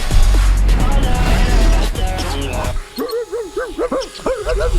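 Loud noise and movement at first, then a dog yips and whimpers in short, repeated high cries.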